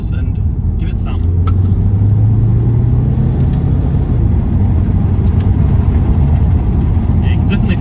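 A 2013 Peugeot 508 Touring wagon's engine pulls hard after a paddle-shift downshift, a steady loud rumble with a rising tone heard from inside the cabin.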